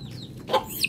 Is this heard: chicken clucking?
yes